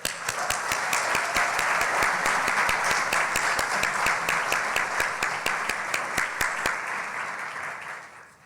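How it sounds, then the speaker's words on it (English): A crowd applauds steadily at a community celebration, loud and close, with sharp individual claps standing out from the dense wash for about seven seconds before it fades away. "let us show our appreciation one more time by clapping our"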